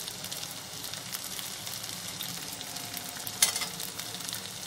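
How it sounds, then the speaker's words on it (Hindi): Taro (arbi) leaves with chana dal frying in a pan, a steady close hiss and sizzle with faint stirring scrapes and one brief louder clatter near the end. "एकदम अच्छे से इसको फ्राई करेंगे।"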